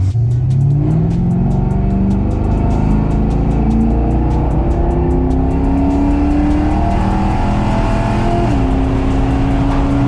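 A car engine revs loudly and steadily up close, pitch climbing gradually then dropping briefly before rising again, with a constant rumbling roar.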